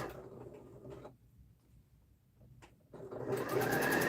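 A sewing machine runs, stitching bias tape onto a patchwork duffle bag with a shortened stitch: a steady mechanical whir for about a second, a pause, a brief burst, then louder continuous stitching to the end.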